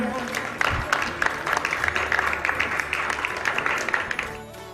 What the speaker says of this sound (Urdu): آپ کی بھرپور تالیاں تو ہونی چاہیے